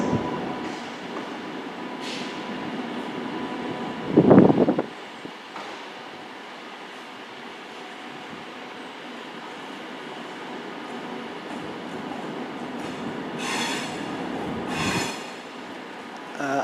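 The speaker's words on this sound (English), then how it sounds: "This train is formed of 4 coaches." A four-coach train rumbles through London Euston station on the West Coast Main Line, a steady rolling drone with a loud knock, a wheel squeal and hissing bursts.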